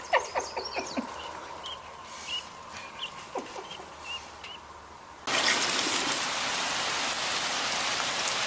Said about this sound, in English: it has been raining buckets all night, and it's still going this morning